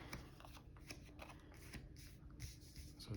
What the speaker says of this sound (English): So we shuffle those up, and we make 5 stacks